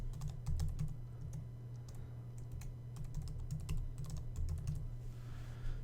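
Rapid, uneven clicking of keys on a computer keyboard as a password is entered, close and continuous over a low steady hum, with no talking.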